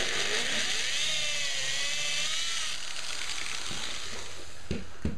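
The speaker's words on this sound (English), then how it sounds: "take the drill and use these holes as guide holes to drill through the pallet pieces" Power drill boring through pieces of pallet wood, a steady loud whine with rising and falling pitch for the first few seconds, then continuing rough buzzing with a brief louder burst near the end.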